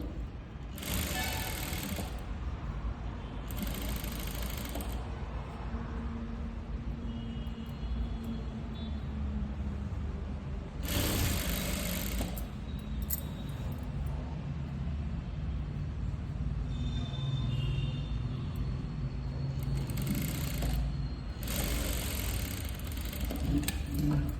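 A sewing machine runs steadily and close by through a long stretch while stitching a blouse in a boutique. The motor hum is constant, and a few brief brighter bursts rise above it.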